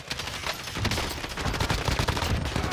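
Dense, continuous gunfire in a multiplayer shooter video game, rapid automatic bursts overlapping with single shots, loud and sustained throughout with no talk.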